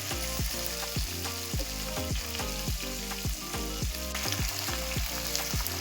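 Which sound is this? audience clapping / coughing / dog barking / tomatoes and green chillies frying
tomatoes and green chillies frying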